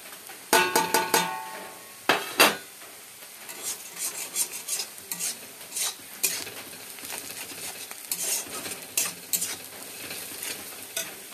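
Spices stirred into reddened onions in a pan on a gas stove while cooking Rupchanda fish jhuri, a close, steady sizzle broken by sharp scraping clinks of a utensil against the metal pan, busier at the start, no voices.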